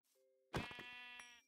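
A single sheep bleat from a Minecraft Dalek Mod game, one short wavering call heard alone and close, preceded by a faint quiet tone.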